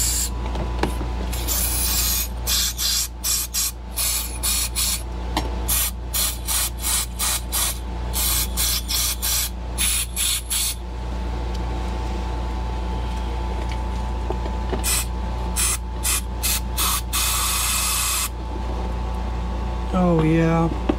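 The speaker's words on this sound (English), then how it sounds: "spray these down a little bit. Make sure that whatever residues on it is cleaned off." Spray cleaner hisses onto Yamaha Blaster carburetor parts in many short, sharp, loud bursts, closely repeated in a rhythmic pattern and then a longer spray, while someone talks quietly in between.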